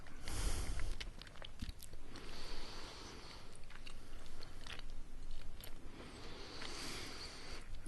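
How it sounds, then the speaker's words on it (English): Close, quiet gum chewing with moist smacking and clicking mouth sounds in irregular bursts, no talking. "I have not practiced talking while chewing gum"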